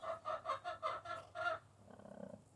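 A mother hen in a nesting box gives a run of six or so soft rhythmic clucks, close and clear, followed by faint chick peeping.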